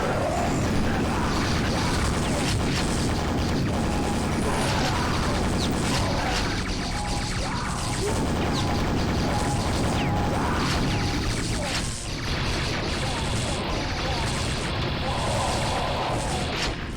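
Super nailgun in the 1996 shooter Quake, a steady mechanical rattling stream of fire mixed with clanking impacts and explosions, loud and continuous throughout.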